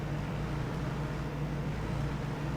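Steady low droning engine of a tractor in a farming game, a continuous hum with little variation, fairly faint and alone.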